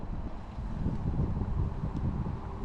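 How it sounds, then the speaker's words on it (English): Wind blows at a pond in a steady low rumble buffeting the microphone, continuous and fairly loud for a few seconds, with no talk. "There's some more wind."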